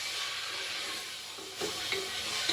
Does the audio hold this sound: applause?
no